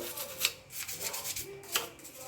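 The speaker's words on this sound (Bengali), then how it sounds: "দেখো আমি ভালো করে একটু ঘষছি জলের প্রচণ্ড বাজে দাগ হয়ে গেছিলো" Someone scrubs bad water stains with Colgate toothpaste in a series of close, repeated rubbing strokes that swell and fade in an uneven rhythm.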